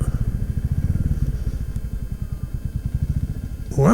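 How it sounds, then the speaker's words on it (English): Motorcycles idle together at a busy bike meet, a close, steady low rumble of thumping engine pulses that continues throughout, ending with a brief rustle. "it's a fair few bikes here today"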